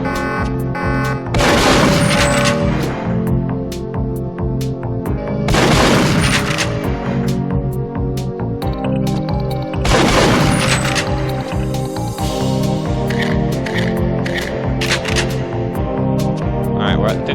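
Rapid secondary-mode gunfire in a Perfect Dark shooting-range training exercise comes in three loud bursts of fast repeated shots, with a steady tonal backing between them.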